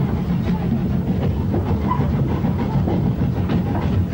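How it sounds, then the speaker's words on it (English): A 1962 train on the Brecon line labours toward the summit near the reservoir at Cray, giving a continuous heavy rumble and engine roar with faint rhythmic clatter, steady and close throughout. "Our train is working hard as it approaches the line's summit"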